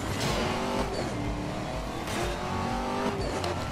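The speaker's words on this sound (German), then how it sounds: "Die Beschleunigung von dem Ding ist auch unglaublich." A Bugatti Veyron in the racing game Need for Speed Most Wanted accelerates hard, its engine roaring loud and steady with rising revs and a brief tire squeal, the sound close and continuous throughout.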